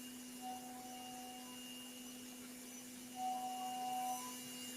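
A CNC spindle running at 15,000 RPM while machining a firearm part, a steady high-pitched whine with constant tonal hum, smooth and even without chatter, slight swells partway through, no talking.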